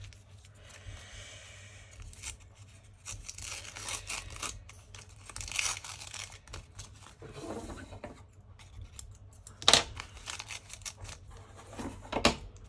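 Scissors cut through painted gel-print paper up close, giving a string of crisp snips and dry rustling scrapes of varying loudness with brief pauses between them. No voices.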